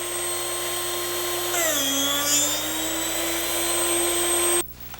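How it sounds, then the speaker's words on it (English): A drill bit sharpener's motor whines steadily, then its pitch dips and grinding begins as a drill bit is pressed in, running several seconds before cutting off abruptly. "Now watch as a bit is aligned, then sharpened."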